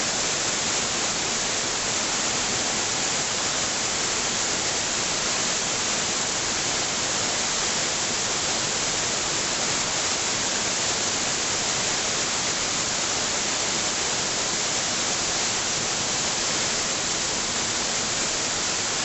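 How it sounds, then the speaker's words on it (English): Stock Ghyll Falls at Ambleside in the Lake District roars as a dense, unbroken rush of falling water, loud and constant throughout. "the star of the show is the waterfall at the top end of the park"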